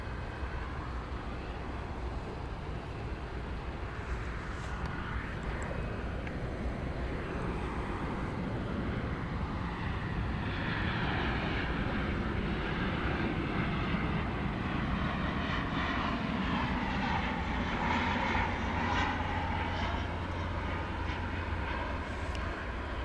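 An American Airlines jet in from LaGuardia rolls through DFW Airport at night, its engine roar steady and fairly loud throughout, swelling and shifting in tone past the midpoint with no talking.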